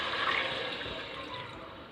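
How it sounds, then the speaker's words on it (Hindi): Water poured from a glass into a pot of spiced masoor dal masala with a chicken cube, a steady close splashing gush that fills the short stretch on its own. "और साथ ही मैं पानी ऐड कर रही हूँ इसमें।"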